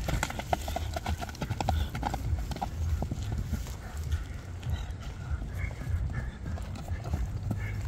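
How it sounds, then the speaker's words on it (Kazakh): A horse walks slowly, its hooves clip-clopping in an uneven steady rhythm close by, with someone talking over it outdoors. "Акырын жайда бастырып көрсөтүп коелу."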